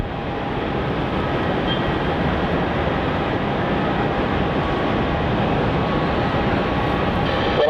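An airliner slowing down on runway 16 at Melbourne Airport, heard as a loud, steady, broadband roar of engine and rolling noise that holds level for the whole stretch without a break.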